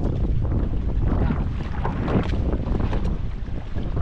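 Boat motor running steadily on open water, a constant loud engine drone mixed with wind buffeting and water rush, close to the microphone with no pause.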